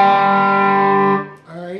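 An electric guitar tuned to open G rings out a single strum across the 5th, 4th and 3rd strings, a loud sustained chord with effects that fades into a short second hit.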